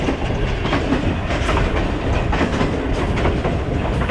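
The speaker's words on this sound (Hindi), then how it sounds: "ट्रेन ने स्पीड तो पकड़ी है" Fareed Express train running at speed, a loud continuous rumble of wheels and carriages with rhythmic clickety-clack from the rails, steady throughout with no talk.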